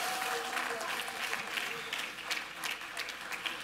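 A church congregation claps along during Sunday worship, a dense, continuous wash of many hands, moderately loud with a voice faintly over it.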